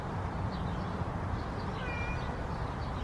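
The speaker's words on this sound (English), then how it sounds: "I've never heard this cat meow before." A feral cat meows repeatedly at moderate distance, several short rising and falling cries over a steady outdoor background hiss.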